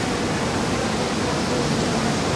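Breaking ocean whitewater at the 2016 Roxy Pro surf contest gives a steady, close hissing roar with no let-up and no voices.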